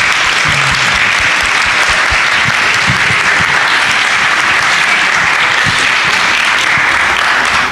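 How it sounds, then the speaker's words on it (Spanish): Loud, dense applause from an audience at a health and healthy-lifestyle expert panel for a doctor, continuous and sustained throughout with a faint low murmur underneath. "un aplauso al doctor"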